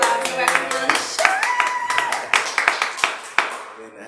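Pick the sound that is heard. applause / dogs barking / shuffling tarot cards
applause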